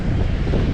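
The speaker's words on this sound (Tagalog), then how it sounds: "sobrang hangin po kasi dito. Maingay po yung ating video" Heavy wind buffets the microphone, a steady loud rumbling roar with no other sounds coming through.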